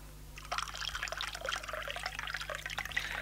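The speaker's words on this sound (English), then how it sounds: "Pour me a nice cup of tea." Tea pouring from a pot into a cup, a close continuous trickle of liquid lasting a few seconds over a low steady hum.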